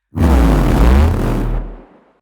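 A heavy, deep sub-bass rumble that swells in loud and holds for about two seconds before fading out, on its own.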